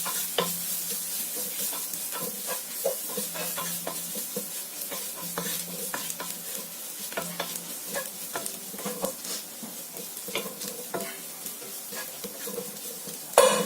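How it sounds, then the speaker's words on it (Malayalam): Masala for Kerala-style varutharacha chicken curry, with garam masala, pepper powder and turmeric, being sautéed and stirred in a pan: steady sizzling with frequent scraping stirs throughout, no talk. "ഇത്രയും നമുക്കൊന്ന് നല്ലവണ്ണം വഴറ്റിയെടുക്കാം."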